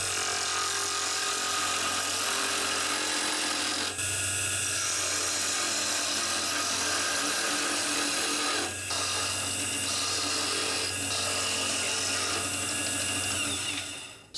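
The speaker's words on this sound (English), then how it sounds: "with the lathe on high, and we'll start with this roughing gouge chisel here just to get the blanks to shape" A wood lathe runs at high speed while a roughing gouge shapes pen blanks, a steady loud whine with continuous scraping and cutting chatter, briefly dipping as the tool shifts, no talk.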